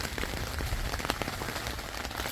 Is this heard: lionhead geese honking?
no